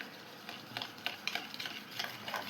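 Dorayaki batter stirred in a bowl produces quiet, rhythmic swishing and tapping strokes, about one every quarter second, close and faint with no speech.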